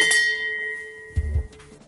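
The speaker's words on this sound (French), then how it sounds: "Le son de cette cloche marque officiellement le début des épreuves Star Chef." A single bell rings out to open a Star Chef cooking competition, its bright tone struck once and left to hang and fade, with a brief low thump near the end.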